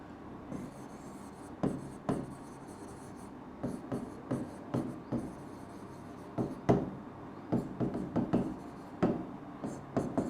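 Chalk or marker strokes on a board as an annual consumption formula is written, a run of short scratchy taps and rubs in irregular bursts, close and fairly quiet.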